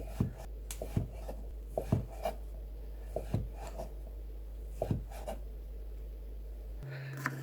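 A knife cuts thin rectangular fish cakes into strips on a cutting board, giving a regular series of soft, close taps roughly every half second over a low steady hum.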